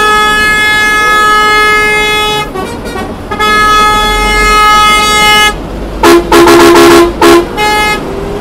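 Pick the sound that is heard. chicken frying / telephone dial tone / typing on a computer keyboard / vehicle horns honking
vehicle horns honking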